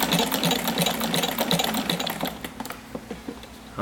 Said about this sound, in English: If I go faster at full speed, there's a little bit of a whine noise